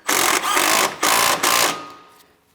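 Bursts of a power tool, likely an impact driver, tightening cooling fan mounting bolts on a 2007-2014 Ford Edge 3.5L, three loud close whirs in quick succession before it winds down.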